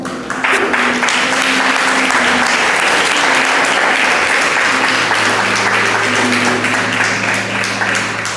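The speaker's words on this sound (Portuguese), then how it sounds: "aplaude ela com toda a força do seu coração" A church congregation bursts into loud, sustained applause at a Portuguese-language service, many hands clapping continuously with a held musical tone sounding beneath.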